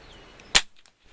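A single sharp gunshot from test-firing old ammunition cracks loudly and close, decays quickly, and leaves near silence.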